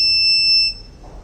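An electronic buzzer in a vehicle anti-collision alert system sounds a sharp, steady high-pitched tone for about half a second, then cuts off, leaving near silence.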